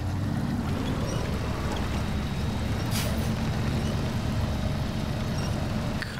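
Steady, close truck engine drone and rumble in SnowRunner, continuous and fairly loud, with a faint hiss and a brief higher whoosh midway, no voices.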